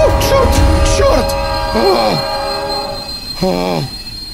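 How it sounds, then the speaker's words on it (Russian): A train in the Shinkansen 0 video game brakes to a stop with squealing, whistle-like metallic wheel tones sweeping over a loud rumble, with voices mixed in. "Поезд остановился."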